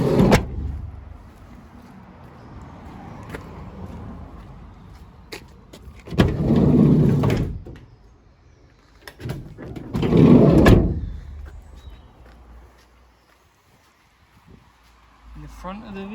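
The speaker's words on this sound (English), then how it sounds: "it does come with twin side doors" The twin sliding side doors of a 2016 Mercedes Citan 109 CDI long-wheelbase panel van roll open one after the other, each a loud rumbling slide with a clunk, while someone talks throughout.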